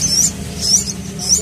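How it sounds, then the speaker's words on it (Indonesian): Seven young pelatuk bawang woodpecker chicks give high, thin chirps in three short repeated bursts, close by, over a low steady background hum. "Ada 7 ekor anakan burung pelatuk bawang."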